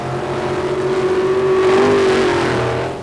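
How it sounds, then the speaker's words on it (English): A modified Jeep with a carbureted Chevrolet 355 engine roars at a 1990 paddle tire mud race in Bayou George, Florida, its loud, close engine revving steadily before easing off at the end. "this is Ted Brugger in Cut and Loose, a modified Jeep with a Chevrolet 355."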